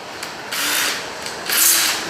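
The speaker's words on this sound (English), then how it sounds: "Take your bigger drill bit" A power drill with a large bit bores a hole for a jewelry display case. Two bursts of high-pitched whirring are heard close up, each about half a second long, with a short quieter pause between them and no talking.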